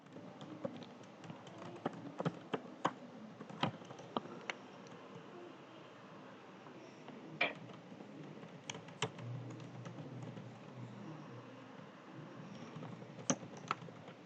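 Computer keyboard typing in irregular bursts, light close clicks and taps scattered over a quiet, faint room background.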